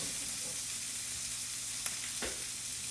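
Four sirloin steaks sear in a very hot pan, giving a steady broadband sizzle throughout with a couple of brief clicks or spatters near the end; no voices.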